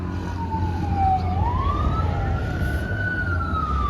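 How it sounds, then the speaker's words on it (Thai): A fire engine siren wails, dipping low then swelling into a long rising tone, heard alone over a steady hum of road noise. "ได้ยินเสียงรถดับเพลิงพี่น้อง"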